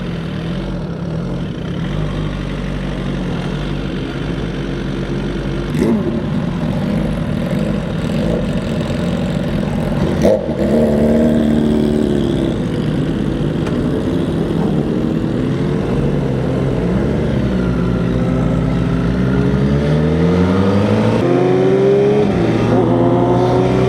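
A fast, light motorcycle running on 93-octane fuel for roll racing gives a steady, loud engine drone for the whole stretch, with a brief rise near the middle and rising, shifting pitch sweeps toward the end.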